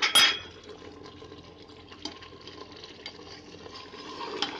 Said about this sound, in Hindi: तो मिक्स करते हैं, इसमें सीटी नहीं देनी है, बस ऐसे ही भूनेंगे